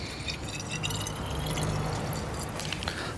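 Artisanal pisco pours into a bottle during bottling, a steady liquid fill with a faint drip and gurgle, close and even, with no talk.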